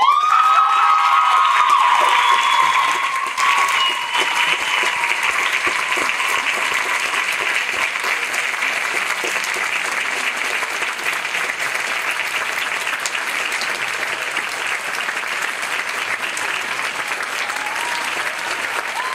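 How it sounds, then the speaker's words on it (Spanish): A theatre audience at a talk by author Tamsyn Muir breaks into loud, sustained applause with cheers and whoops, a dense crowd roar that stays strong throughout and eases slightly toward the end. "Venga, un último aplauso."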